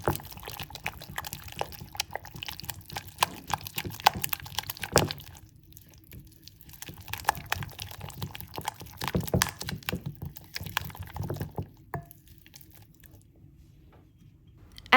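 An egg is added to mashed avocado and stirred in, giving soft wet squelching and scraping mixing sounds with a brief crack, steady and close throughout.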